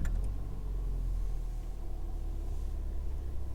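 A Ford Fiesta ST180 fitted with a Whoosh Motorsports short ram intake starts up and settles into a steady, heavy low rumble, close and loud throughout, with no voices.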